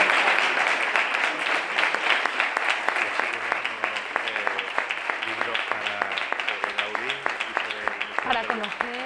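Audience applause at a museum event in Andalusia, steady and fairly close clapping that carries on for several seconds, with a voice speaking faintly over it.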